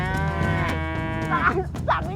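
Cattle lowing at a cow farm in Ungaran, Central Java, with several long, loud, harmonic moos overlapping close by and continuing throughout.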